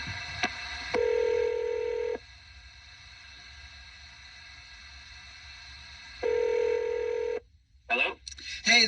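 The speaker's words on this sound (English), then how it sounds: "I'm going to dial his number right now." A phone number is dialed live on a morning radio show: two steady, loud tone bursts sound about four seconds apart, with a quieter stretch between them and brief clicks and rustles at the end.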